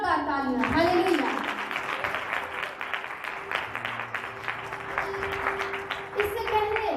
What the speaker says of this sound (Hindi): सो खुदा के जलाल के लिए जोरदार तालियां